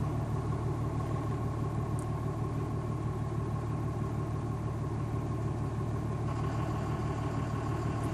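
A Cummins diesel truck engine from 2003–04 idles steadily with a low, even rumble, running on a switchable tune as it changes over to the 12 valve setting. The sound is close and continuous, and no one speaks.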